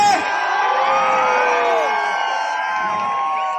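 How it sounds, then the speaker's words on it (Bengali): A crowd at a film meetup in Burdwan whoops and cheers for the movie's heroines, a loud sustained wall of shouts and high-pitched screams from many young fans, close and continuous. "আমাদের দুজন নায়িকা স্নেহা এবং ইনিকার জন্য জোরে হাততালি"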